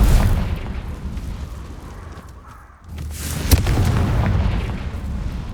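Confringo fire-spell blasts go off in Hogwarts Legacy as deep rumbling booms, with a sharp impact around the middle and rolling explosive noise that swells, dips and then surges again.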